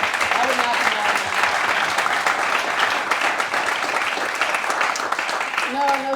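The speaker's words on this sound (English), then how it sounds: "Can you give it a round of applause for you guys yourselves?" A town hall audience claps steadily for several seconds, a dense and fairly loud wash of applause, with a few voices and cheers rising briefly over it near the end.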